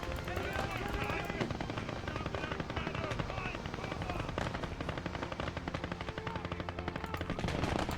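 A Vickers machine gun fires rapid continuous bursts amid dense battlefield gunfire and explosions in a video game battle, loud and constant over the whole stretch, with a voice talking underneath.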